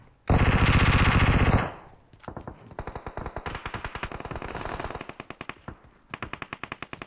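Automatic gunfire in a battle-royale video game with UMP and AK weapons, starting with one loud continuous burst, then long runs of rapid, slightly more distant shots in a steady rattling rhythm, with no talk.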